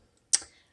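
One sharp, close key strike sounds on a 1960s Smith Corona Galaxie 12 manual typewriter, a single crisp clack that fades quickly into silence.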